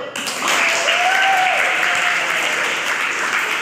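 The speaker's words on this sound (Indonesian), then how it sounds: "Tepuk tangan dulu." Steady applause from an audience at an Indonesian teaching session or podcast event, sustained and moderately loud, with faint tonal background noise underneath.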